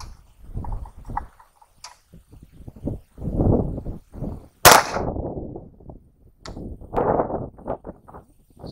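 A .380 ACP round fires from a Yildiz TK12 single-shot 12 gauge shotgun fitted with a bore adapter: one sharp, loud report midway, surrounded by quieter handling and shuffling noises.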